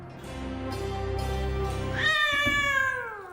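After a low rumbling drone, a cat lets out a single long, drawn meow, close and clear.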